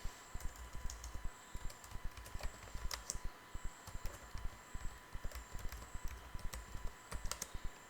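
Steady typing on a computer keyboard, close and quiet, with rapid irregular key clicks and occasional louder taps, likely the spacebar, running throughout with no talking.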